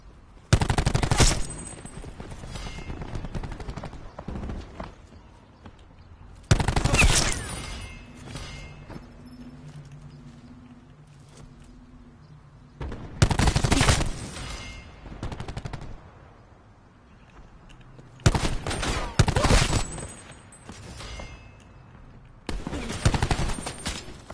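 Heavy bursts of automatic gunfire in a Hardcore Domination video game match, arriving as several loud separate volleys spaced a few seconds apart, with quieter game ambience between them.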